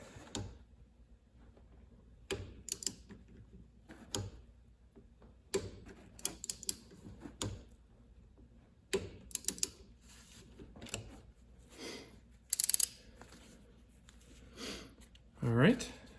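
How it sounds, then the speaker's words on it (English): A torque wrench tightening the banjo bolt on a 2013 Infiniti JX35 rear brake caliper, quiet ratcheting clicks and creaks in scattered bursts, close by. "we got the Banjo Bolt torqued down"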